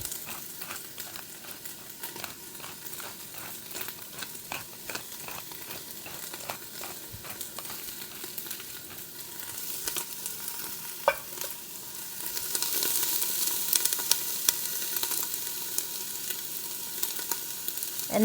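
Vegetables sauté in an Instant Pot with a continuous sizzle, while a utensil scrapes and taps rhythmically as they are stirred, the hiss swelling louder in the later part.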